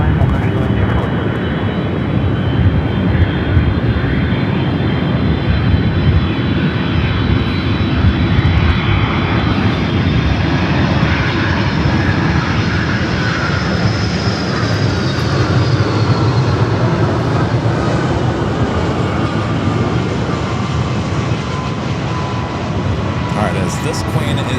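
Boeing 747 jet departing LAX, a loud continuous engine roar with a rising whine that sustains and slowly shifts, heard from nearby with talk and radio chatter over it.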